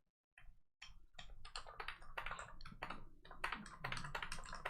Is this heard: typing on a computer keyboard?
yes